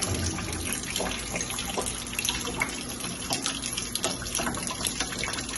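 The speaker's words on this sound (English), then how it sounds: "A video of another classroom shows water raining from the ceiling into a bucket." Water pours from a leaking classroom ceiling into a bucket, a dense, continuous splashing gush heard close and fairly loud, with a constant level throughout.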